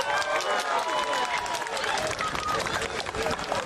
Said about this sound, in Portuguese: Esse momento de aplausos e comoção foi quando o pequeno Pedro foi finalmente resgatado